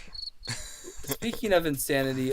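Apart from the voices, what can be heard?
crickets chirping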